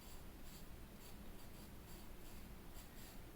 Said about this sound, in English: this is the only place in this drawing where I'm going to use a pencil